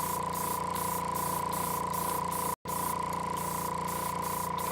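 An airbrush with a dirty nozzle sprays paint onto a Gundam model kit in a series of short, evenly spaced hissing bursts, close and clear, broken once by a brief silent gap.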